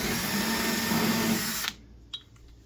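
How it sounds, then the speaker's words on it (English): A loud, steady electric drill whines for about a second and a half, drilling out a rivet hole, then stops abruptly, followed by a faint click. "just drill that out to make sure that it is clear"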